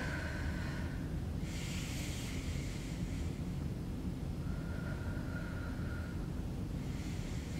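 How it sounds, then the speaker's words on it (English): Heavy, rhythmic breathing during a held ELDOA stretching exercise, with several breathy exhales rising above a steady low rumble of background noise. "Breathing."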